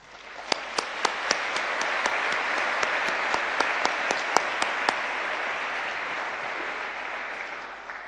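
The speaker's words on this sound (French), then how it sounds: "cela mérite notre admiration et surtout nos applaudissements" Audience applause at an awards ceremony honoring graduates and scholarship laureates: a steady, dense wash of many hands clapping for about eight seconds, with a few sharper individual claps standing out near the start, no voices over it.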